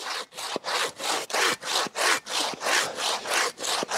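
Fanno K24 23.5 inch hand saw cutting through wood, a steady run of about a dozen rasping strokes back and forth, close, loud and even in rhythm with no talk.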